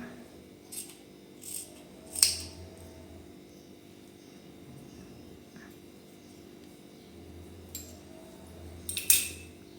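Scissors trim excess ribbon wound on a craft frame, with a few sharp isolated snips spaced through a quiet background, clustering near the start and end.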